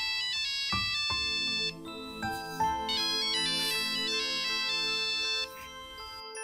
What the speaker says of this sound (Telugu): నాన్న ఫోన్ వస్తుంది.